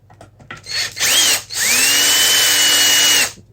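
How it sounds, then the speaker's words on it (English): A power drill spins out screws from an ebike hub motor, with two bursts of whirring: a short run followed by a longer steady one, loud and close, with small clicks between. "Put a little chuck in there, pull all these screws out."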